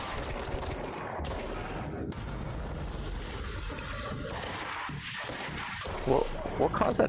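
Explosion and gunfire blast through a firefight in the video game Control, a dense continuous roar of shots and booms with scattered sharp bursts near the end, and a voice speaks over it.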